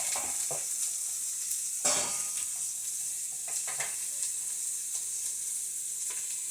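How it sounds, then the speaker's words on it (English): Carrots, celery and onion sizzle steadily in a pressure cooker, a loud continuous hiss with occasional sharper pops and a brief louder burst near the two-second mark. "I'm going to add the carrots, celery, onion"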